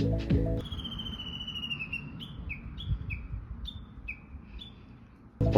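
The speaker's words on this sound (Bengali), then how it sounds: "পাখিদের ডাক চারপাশে এক অদ্ভুত শান্তির পরিবেশ তৈরি করছিল।" Birds calling beside a roadside in Japan, a thin high whistle followed by a string of short descending chirps repeated at a fairly even pace over soft background noise.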